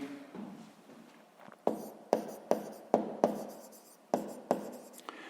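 Pen strokes scratch across paper in a quiet room during a 6th-grade math exercise, with a series of sharp, close taps and short scribbles coming in quick irregular bursts.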